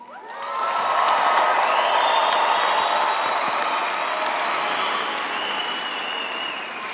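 Sustained applause from a large crowd welcomes new graduates at a fall commencement ceremony, a dense steady clapping that rises quickly and holds loud and even throughout, with faint scattered cheers.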